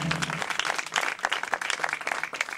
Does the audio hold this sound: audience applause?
yes